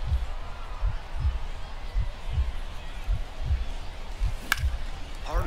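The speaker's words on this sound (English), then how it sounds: "It's doing the intense heart situation. It's stuck. It won't stop." A looping heartbeat effect in the baseball video game MLB The Show 24 thumps in a steady, repeating low pulse of about one beat per second, with faint background noise and a brief sharp click near the end.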